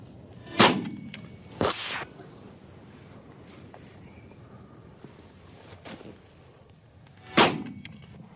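Shotgun blasts ring out during a pigeon hunt over open fields, three sharp reports spaced several seconds apart, each with a short echoing tail, amid a quiet outdoor background.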